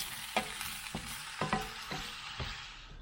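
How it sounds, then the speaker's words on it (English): Food frying in olive oil in a pan for homemade burgers, stirred with a utensil: a steady sizzle under a series of distinct scraping knocks at irregular intervals. "So we'll give these a bit of a stir."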